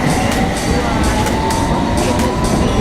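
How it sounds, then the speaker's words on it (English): London Underground District line train pulling into Aldgate East station, a loud steady rumble of wheels on rails with rhythmic clacks and a faint squeal as it arrives close by. "we are waiting for a District line train."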